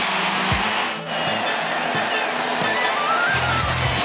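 Crowd noise at Clemson's Death Valley stadium during a college football game, a broad steady roar from the stands beneath a commentator's voice, holding level for the whole stretch.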